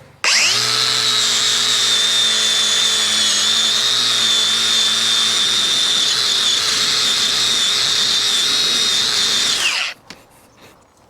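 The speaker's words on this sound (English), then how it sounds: "Next thing I'm going to do is shine this thing up, I believe with this brush and my grinder here." Angle grinder fitted with a wire brush polishing a farm hook welded from old horseshoes, a loud sustained high whine that runs steadily for about nine seconds, then spins down and stops.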